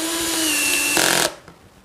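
A power drill drives a screw into wood during a DIY cable-storage build, with a loud, close, sustained motor whine that strains briefly and then cuts off abruptly, leaving a faint tail.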